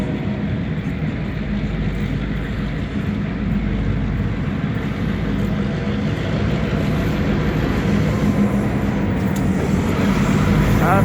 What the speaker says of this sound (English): We got the train coming right now.